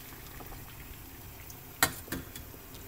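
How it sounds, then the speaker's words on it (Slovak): Water in a covered stovetop pot of lightly salted corn comes to a boil, a low steady bubbling with a sharp clank near the middle and a smaller knock just after. "Tak, voda začala vrieť."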